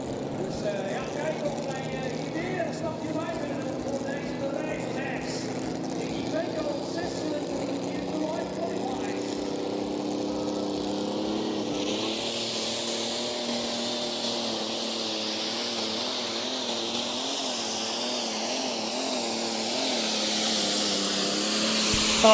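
Razor's Edge, a tractor pulling machine at the Putten competition, runs down the track with a loud, sustained engine roar that builds into a rising high-pitched whine. An announcer's voice talks over it throughout.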